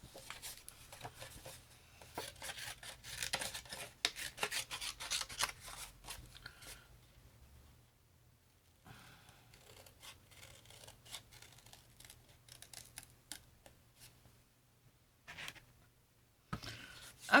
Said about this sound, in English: And then we're just going to fussy cut these out.